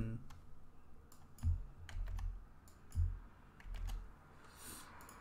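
Typing on a computer keyboard to rename an app in a software admin console: a short run of soft, close key taps in uneven clusters with a few heavier thumps, quiet and alone.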